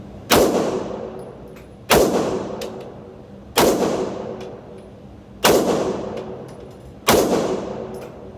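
Five loud gunshots fired down range at an outdoor shooting range, spaced evenly about every second and a half, each a sharp crack trailing into a long rolling echo.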